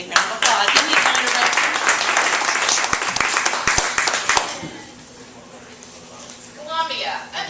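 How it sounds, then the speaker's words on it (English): Audience applause for the Poet Laureate of South Carolina at a literary weekend event, dense loud clapping for about four and a half seconds before it fades into room murmur and a voice. "so let's give him a big round of applause"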